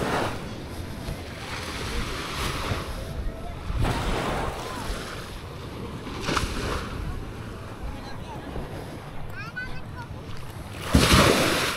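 Sea waves washing ashore at high tide on Nasugbu Bay in Batangas, a continuous surging rush with periodic louder swells and wind buffeting the microphone, while someone talks over it.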